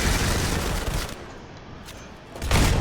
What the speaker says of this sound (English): somebody from behind is shooting me